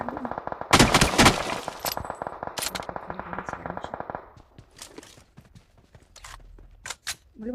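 Rapid sniper and automatic gunfire bursts from a PUBG Mobile match, loud cracks in quick succession at first, then scattered lighter shots and game noise, with faint voices underneath.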